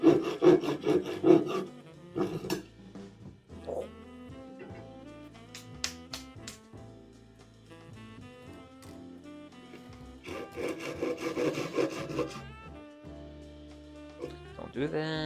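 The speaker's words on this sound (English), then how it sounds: "let's see if I can do a decent job sawing today" A hand saw rasps back and forth through pallet wood in steady strokes, close up, with some pauses and scraping between cuts.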